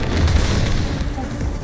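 A mine explodes in the video game Split Fiction with a deep, rumbling boom that fades into a broad, noisy game soundscape.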